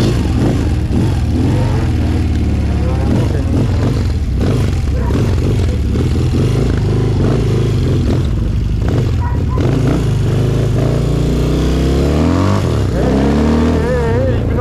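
Enduro motorcycles at a classic enduro event in Neuhaus-Schierschnitz rumble and rev continuously nearby, engines rising and falling as they ride out, with people talking over the noise throughout.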